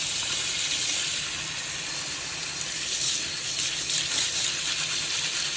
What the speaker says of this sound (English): make sure that you rinse the grains really well